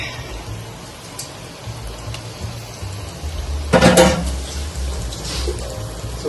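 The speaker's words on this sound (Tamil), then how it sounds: "சிக்கனை போட்டுட்டு நல்லா அந்த மசாலா உள்ள இறங்குற வரைக்கும் நல்லா வதக்குங்க." Chicken pieces fry in masala for Ambur chicken biryani, giving a steady, rain-like sizzle with a louder burst of spattering partway through.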